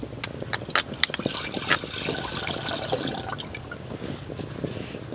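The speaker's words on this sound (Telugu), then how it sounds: "టీకి నీళ్ళు లేకుండా డైరెక్ట్ పాలు వేద్దాం" Milk is poured straight into a pan for tea, without water, as a soft, close trickle and splash of liquid that runs quietly for a few seconds with no talking.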